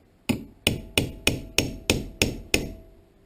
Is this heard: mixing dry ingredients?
no